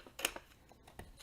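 Scissors snip through paper bag flaps in a few quick, faint cuts close by, with light rustling of paper between the snips.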